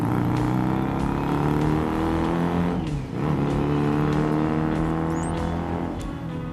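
Small 125cc cafe racer motorcycle engine running steadily at a fairly loud, sustained drone, with a brief dip in revs around the middle before the engine note picks back up, with no talking.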